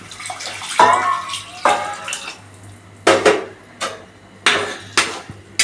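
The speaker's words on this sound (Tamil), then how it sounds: "இதில் ரைஸு வேகிற அளவு தண்ணி ஊற்றுறோம்" Water is poured in several separate bursts into a pot of vegetable biryani rice, each splashing and sloshing loudly before stopping, with a low hum beneath.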